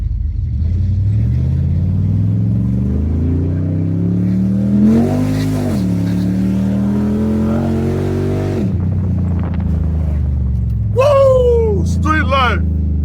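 An 800 HP Chrysler 300 pulls hard under acceleration, its engine rising loudly through the revs with a brief shift, then settling to a rumble as excited voices shout near the end.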